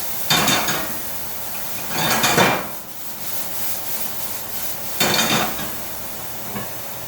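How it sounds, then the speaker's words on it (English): Onions sautéed in a pan produce three loud bursts of spatula scraping and stirring, separated by quieter stretches of low sizzle. "now we're going to saute these onions"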